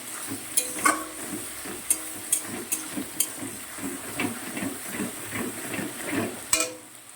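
Onion and tomato sizzle while being stir-fried in a pan, a soft steady frying hiss broken by sharp scraping clicks of the spatula stirring, heard fairly quietly with no talking.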